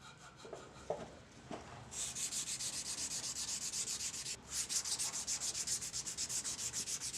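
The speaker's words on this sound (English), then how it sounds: "Now I'm going to sand the scales from 150 grit up through 600 grit" Hand sanding of wooden knife handle scales for a gyuto with sandpaper, a few soft scrapes and then rapid rhythmic back-and-forth rubbing strokes, close and steady, with a brief pause midway.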